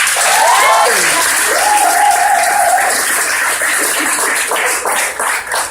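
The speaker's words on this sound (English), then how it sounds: "the newlyweds, Mrs. and Mrs. Richardson, with a warm round of applause." Wedding guests break into loud, sustained applause for the newlyweds, a dense wash of clapping from a full room with cheers and whoops rising over it, steady throughout before easing slightly at the end.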